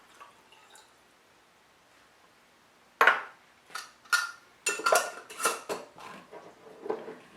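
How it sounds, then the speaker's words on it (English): Water poured into a jar already holding propylene glycol and medication, starting with a sharp clink of glass, then a run of splashing, trickling bursts and small knocks, close and fairly quiet. "I then pour the water in."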